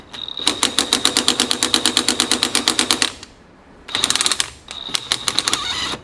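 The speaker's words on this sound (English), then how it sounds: "Sometimes you just gotta use the big drill. The big impact." An impact driver hammers in rapid, rattling bursts loosening stuck threads on a Bren gun barrel, a long run of sharp repeated blows, a short pause, then two more bursts close up.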